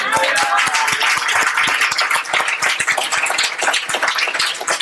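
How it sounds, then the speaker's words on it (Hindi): Audience clapping at a church gathering, a dense steady patter of many hands filling the whole stretch, close and loud with faint voices underneath. "और सबसे बड़ा ताली तो यीशु को ही जाता है।"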